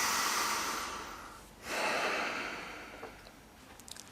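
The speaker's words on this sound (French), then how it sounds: "Et là, vous reprenez à nouveau une respiration profonde." A deep breath taken during a relaxation exercise: a long, close breathy exhale fades out, then a second slow breath swells and tails off into quiet with faint small sounds.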